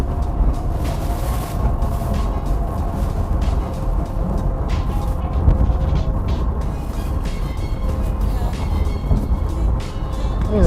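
Subaru Crosstrek cruising on a highway, a constant low road and engine rumble with tyre roar filling the cabin, steady throughout.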